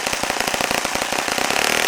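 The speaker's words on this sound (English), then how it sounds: "So you can hear the RPM increase when I pinched it." Saito FA-65 four-stroke model airplane engine running rich, a rapid buzzing string of loud close firing pulses that quickens as the revs climb toward the end.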